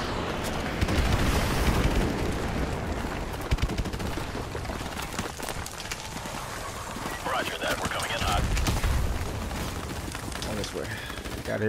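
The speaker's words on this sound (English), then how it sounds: "Target confirmed. Stand by for airstrike." Airstrike explosions and gunfire in the video game Call of Duty 4: Modern Warfare, with heavy booms and rattling bursts of shots layered with game voices over radio chatter.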